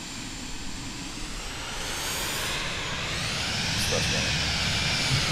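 An airplane landing in Microsoft Flight Simulator 2020, a steady broad jet roar that grows slightly louder toward the end, with no voices over it.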